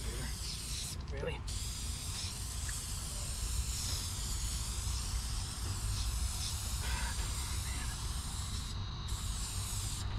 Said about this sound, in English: let's put the activator on it.